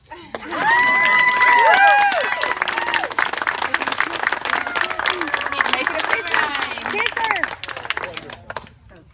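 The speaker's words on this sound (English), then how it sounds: "I think we could applaud." Loud applause from a wedding crowd, with cheers and whoops rising over the clapping, peaking early and then continuing steadily before fading near the end.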